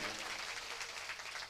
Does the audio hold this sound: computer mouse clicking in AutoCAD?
no